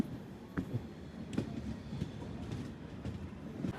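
Low rumble of a train idling or rolling slowly at Kozhikode railway station, with faint rhythmic clanks and a steady hum of station background.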